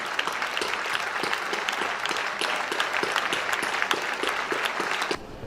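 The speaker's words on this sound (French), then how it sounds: "on va faire une minute d'applaudissement pour Arlette" Steady applause from an audience at a French TV gathering, with crisp individual claps audible through the dense clapping, holding level for about five seconds before dropping off abruptly near the end.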